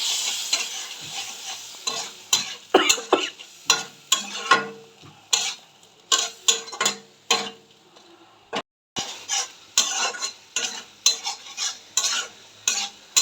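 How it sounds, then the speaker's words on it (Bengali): Fish masala is stirred and fried in a pan with a little water added, spoon strokes scraping in a regular close rhythm over continuous sizzling. "সামান্য নাড়াচাড়া করে সামান্য একটু জল দিয়ে দিলাম। এইবারে আরেকটু আমি সুন্দর করে কষাবো।"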